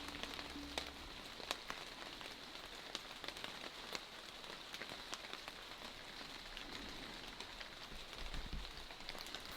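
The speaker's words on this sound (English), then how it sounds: "the rain's falling on the leaves" Rain patters on leaves in the woods as a soft, steady wash dotted with sharp individual drips, faint and continuous with no voices.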